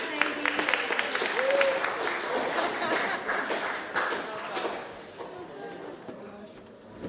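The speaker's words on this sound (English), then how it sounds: "Round of applause for the dessert ladies." Applause for the dessert servers at a wedding reception, clapping spread through a room with taps and thuds, a whistle-like tone early on, fading toward the end with some talk mixed in.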